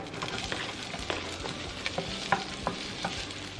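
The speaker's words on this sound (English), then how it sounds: "so now let's add our onions" Chopped onions hitting hot oil in a Dutch oven on medium-high heat, a soft continuous sizzle broken by several sharp stirring knocks and scrapes, close up and with no one talking.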